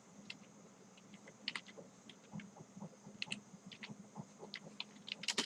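Quiet, close keyboard typing of HTML code on a computer, irregular bursts of light key clicks with brief pauses, growing a little busier toward the end.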